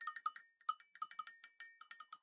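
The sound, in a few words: cowbell being jingled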